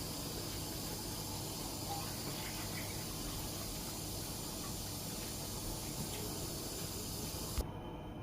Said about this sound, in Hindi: इसमें पानी डालने लगी हूँ माश की दाल में।